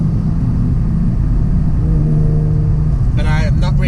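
Black Ford Mustang Transformers Edition, a GT500, pulling hard on the road: a loud, steady engine and exhaust drone with rumble rises in pitch as it accelerates, and a voice cuts in near the end.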